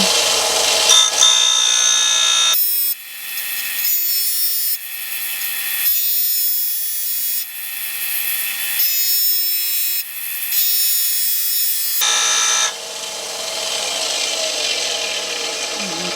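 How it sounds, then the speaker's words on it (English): A loud, harsh grinding whine of a Lisle disconnect tool part pressed against a spinning sanding disc to flatten it, steady with brief pauses and shifts in pitch, close by. "drop this in here and grind this, because right now it is not flat on that sanding disc"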